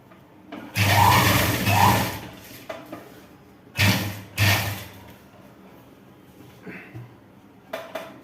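A sewing machine stitches a chudidar in bursts: several short runs of fast mechanical whirring and clatter with pauses between them, close and fairly loud, with no talking.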